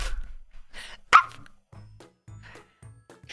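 Dog barking, a few short sharp barks and yips close by, spaced out with quiet gaps between them.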